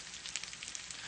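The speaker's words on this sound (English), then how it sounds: "can hear them sizzling right now" Homemade veggie burgers, blitzed in a food processor, sizzle steadily in a frying pan, a continuous close hiss of frying with small crackling pops throughout and no talking.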